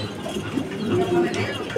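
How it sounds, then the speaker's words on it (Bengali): Beauty Homer pigeons coo softly in low, rolling murmurs at a farm selling pigeons, close by under a light background bustle. "বিউটি হোমার কবুতর।"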